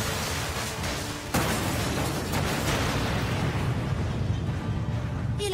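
A dragon's attack slams into the Fairy Tail guild building in an anime battle: a sudden loud blast followed by a sustained, dense roar of rumbling debris and burst-like crackles.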